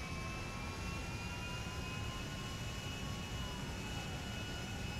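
An airplane's engine drones steadily at an airport in GTA 5, a constant whining jet-like hum with faint tonal whistles, holding an even level throughout with no voices.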